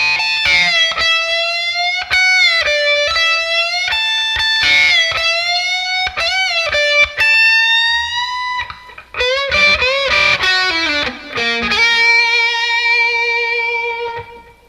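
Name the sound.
electric guitar playing a solo section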